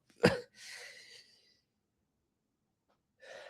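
A single sharp, forceful sneeze erupts, followed by a breathy exhale, a long silence, then another short breath.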